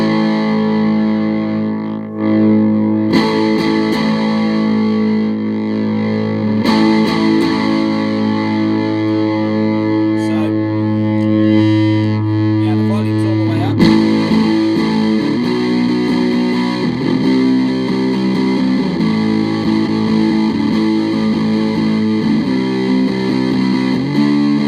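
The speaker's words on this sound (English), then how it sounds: "I've wired in another diode into the mix as well, so just to play around with the level of distortion" An electric guitar played through a homemade retro teddy-style fuzz pedal with an extra diode wired in, producing thick, sustained distorted chords and notes that ring loudly and change at intervals.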